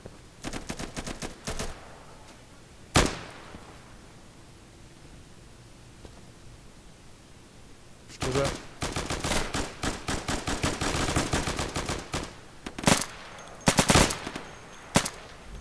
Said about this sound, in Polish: strzelałem do żołnierza